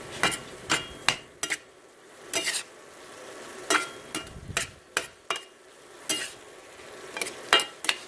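Ground beef seasoned with a couple of squirts of sriracha cooks in a pan, a faint sizzle under repeated sharp scrapes and knocks of a utensil stirring and breaking up the meat, coming in irregular bursts.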